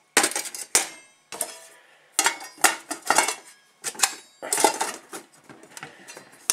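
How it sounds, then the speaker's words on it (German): Stainless steel pots, a lid and a pan clank and clink in a series of sharp, irregular knocks close by, with short pauses between handlings. "Topf mit Deckel. Und einer Pfanne mit Henkel. Das Ganze ist aus Edelstahl."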